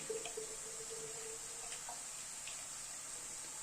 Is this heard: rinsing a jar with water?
yes